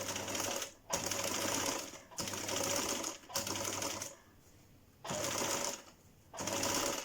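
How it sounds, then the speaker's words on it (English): A sewing machine understitches the seam allowance onto the pocket bag of a trouser hip pocket, running in steady, loud, buzzing bursts of about a second each, separated by brief pauses. "I'm just going to be stitching on the pocket bag side, and I'm stitching all the seam allowance here"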